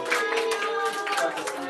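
A church congregation applauds its small-group leaders at a New Year's Eve service, a dense, steady patter of many hands clapping that fills the room without a break.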